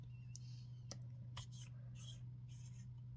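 An eyedropper fountain pen with a fine nib moves across paper in soft, close, scratchy strokes, faint above a steady low background hum.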